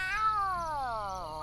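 Gary the snail from the SpongeBob Battle for Bikini Bottom video game gives a single drawn-out meow that slides downward in pitch, clear and close with no talk over it.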